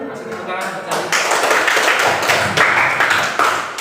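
Classroom audience clapping during a teaching assessment session, a brief spell of applause heard under and between a speaking voice.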